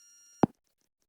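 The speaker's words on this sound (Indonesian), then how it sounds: "Itu tuh ada suara kalau misalnya notifikasi sudah terkirim." A mobile app's notification-sent alert plays once as a brief, sharp click-like tone in a quiet room, with faint soft pulsing tones before and after it.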